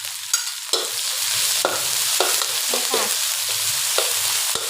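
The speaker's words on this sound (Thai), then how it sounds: "ผัดพริกแกงให้หอมๆ เลยนะคะ" Thai curry paste stir-frying in a pan for basil pork stir-fry, a steady sizzle with repeated scraping strokes of a spatula across the pan, close and continuous with no talking.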